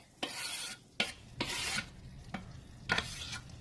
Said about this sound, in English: I'm just going to add it into the meat. Let it get sauteed real good.